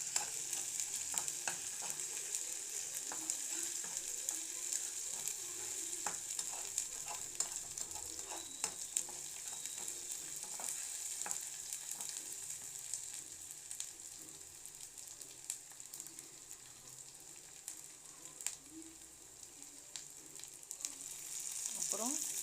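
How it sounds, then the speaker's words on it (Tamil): Ginger garlic paste sautéing in a pan, a soft steady sizzle with frequent small clicks and scrapes from stirring, close but quiet, no talk. "இஞ்சி பூண்டு பேஸ்ட்டு பச்சை வாசனை போகிற அளவுக்கு கொஞ்சம் நல்லா வதக்கணும்"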